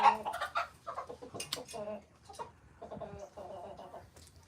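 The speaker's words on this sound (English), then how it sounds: "My chickens are going crazy right now trying to roost on my tools." Chickens cluck and squawk in agitated bursts while they try to roost on tools. The sound is faint and rather distant, with scattered calls coming irregularly across the clip.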